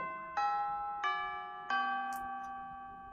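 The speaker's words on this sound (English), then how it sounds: "Not the school bell, that's a doorbell." A doorbell from the video game Hatoful Boyfriend rings three bright, bell-like chime tones in descending steps, each left to ring out and fade against a quiet background.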